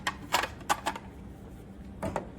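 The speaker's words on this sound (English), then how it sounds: "They're just simply clicking." Plastic drip trays click into place on a twin bowl slushie machine, a handful of sharp, close snapping clicks in quick pairs with a short pause between them.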